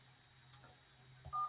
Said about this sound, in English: I'm setting up the phone lines here quickly.